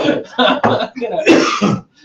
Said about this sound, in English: Everybody's like coughing it out all of a sudden